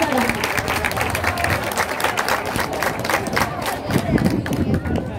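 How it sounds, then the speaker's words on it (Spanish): Audience applause at a school-year opening ceremony in Chilete, steady clapping from a crowd held at an even level throughout, with voices mixed in. "¡Aplausos para ella!"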